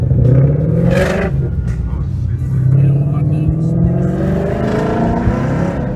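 Ford Mustang GT engine pulling hard from inside the cabin, a steady loud low drone with rising harmonic sweeps as it accelerates, while people talk over it.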